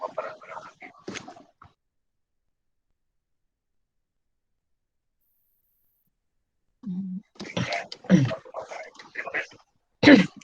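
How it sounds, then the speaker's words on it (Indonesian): A person coughs and clears their throat in short bursts, close to the microphone, with talking before and after and a long silence between. "Aduh, langsung batuk saya."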